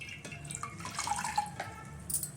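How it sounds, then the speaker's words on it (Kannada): Wet cloth being soaked in water in a home kitchen while making millet mudde, giving soft splashing and dripping that runs through the whole short stretch, close and fairly quiet. "ನಾನು ಒಂದು ಬಟ್ಟೆನ ನೀರಿಗೆ ಹಾಕಿ ಒದ್ದೆ ಮಾಡ್ಕೊಳ್ತೀನಿ."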